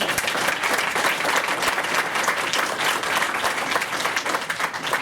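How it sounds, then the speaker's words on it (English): Sustained applause from a large audience, dense and even throughout, a loud wash of many hands clapping at once. "give those folks a round of applause"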